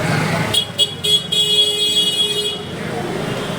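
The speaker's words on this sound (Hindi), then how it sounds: "यहाँ मतलब इतना ज़्यादा ट्रैफिक" Busy Jaipur street traffic near the City Palace, with engines rumbling close by and several short car horn toots in quick succession, then a longer horn note fading into the steady road noise.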